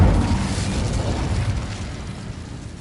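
An Incendio fire spell from Hogwarts Legacy erupts in a single loud, close whoosh of flame that roars and slowly fades over a few seconds.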